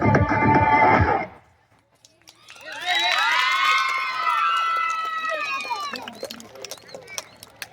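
A crowd of children and adults cheers and shouts loudly for a girls and boys dance performance, with scattered claps toward the end, after a brief stretch of voices and music at the start.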